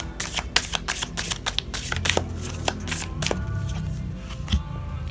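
Tarot cards are shuffled and slapped down one after another in a rapid papery flutter, close and clear, then settling into softer handling and faint rustling.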